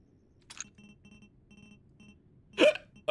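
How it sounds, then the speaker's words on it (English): A single big hiccup from a person, abrupt and close, standing out over a quiet background of faint game sounds, with a smaller catch of breath heard shortly before it. "Oh, a big hiccup."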